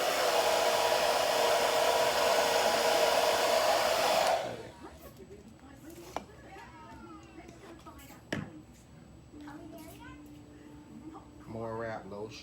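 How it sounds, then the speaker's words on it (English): A hair dryer blows on hair during a side-swept bob styling, a loud, steady roar for about four seconds that then cuts off, followed by quiet talking and small handling noises. "Going in with the dryer."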